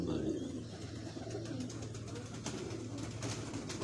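Pigeons cooing in a low, steady murmur throughout, with a continuous hum of ambient noise beneath and no clear talk, at a moderate distance.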